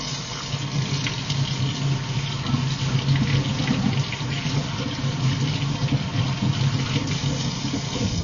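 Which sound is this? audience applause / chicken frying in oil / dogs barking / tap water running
tap water running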